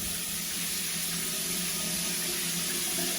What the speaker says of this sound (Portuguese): vocês vão ver que a água que tá vindo pra cá, ó como ela vai descer